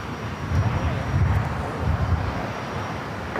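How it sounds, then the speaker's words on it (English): A Boeing 777 cargo freighter jet at LAX heading toward the 25 runways gives a steady, broad engine roar that holds for several seconds, with faint voices underneath. "the 777 freighter heading down to the 25s"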